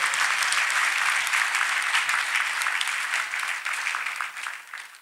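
A church congregation breaks into loud, dense applause after a testimony, many hands clapping together before fading slightly toward the end.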